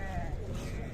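A sheep bleats once amid the steady crowd noise of a livestock market where sheep and lambs are being traded, with a brief wavering cry rising over the background murmur.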